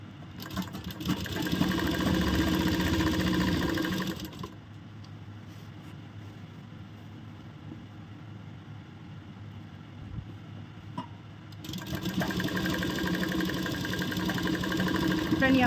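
A sewing machine stitches a piped kurti, running loud and steady for about four seconds, going quiet through a long pause, then whirring again near the end.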